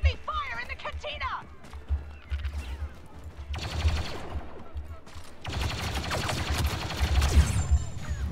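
Blaster gunfire in Star Wars Battlefront 2 coming from two directions, loud dense volleys in two long bursts, with a voice speaking briefly near the start and battle noise running underneath.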